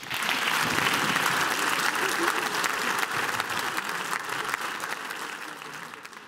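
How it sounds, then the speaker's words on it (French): Theatre audience at a special evening show breaks into warm, sustained applause, a full dense clapping that holds for six seconds and slowly tapers, with faint voices mixed in. "Je vous demande, s'il vous plaît, d'applaudir Julie Gaillet."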